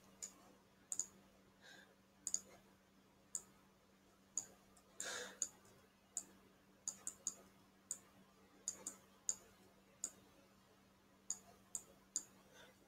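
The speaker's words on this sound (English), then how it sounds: "sorry if you can hear my mouse clicking in previous videos, because my mouse, when I click it, it's way too loud" A loud computer mouse clicks over and over at a PC during a game car build, with sharp, faint clicks coming singly or in quick pairs at irregular intervals over a steady low hum.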